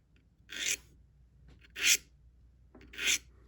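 Three separate rasping strokes of a sharpener across the large serrations of a Victorinox Rangergrip 178 knife, each a short scrape about a second apart, close and clear against near silence.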